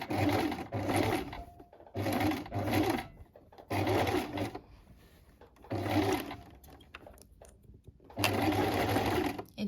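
Sewing machine stitching a thick hem on a wrap skirt, running in five close, steady bursts separated by short pauses, with no talk.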